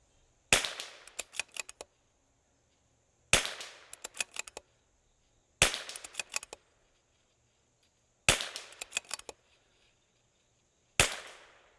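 Shots from a CZ 457 rifle fitted with a 3 to 6 ounce Jard single-stage trigger, five sharp separate reports a few seconds apart, each followed by short ringing echoes and faint metallic ticks, with silence between them.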